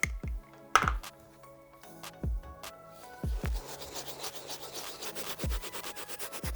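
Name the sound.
soft bristle brush scrubbing Air Jordan 13 sneaker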